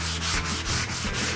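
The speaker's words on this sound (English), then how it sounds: "I've got a sanding block with some 150 grit in it, and I'm just gonna do it by hand" Hand sanding a guitar body with a 150-grit sanding block, heard as steady, close back-and-forth rasping strokes in a quick, even rhythm.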